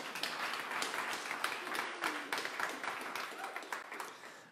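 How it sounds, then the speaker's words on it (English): A church congregation claps, a sustained dense patter of hands that holds steady then tapers off at the end. "Let's give them a round of applause."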